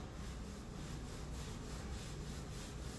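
Steel wool scrubs waxy, not-quite-dry residue off a wood surface, going with the grain in a steady rhythmic rasping that is quiet and close, with no talking.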